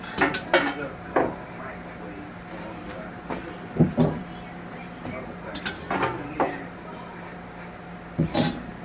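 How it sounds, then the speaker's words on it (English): Metallic clanks and rattles as the divider is pulled out of a CruxGG 9-quart Trizone air fryer basket, several sharp knocks scattered over a few seconds with a faint steady hum underneath. "I took this divider out of the air fryer."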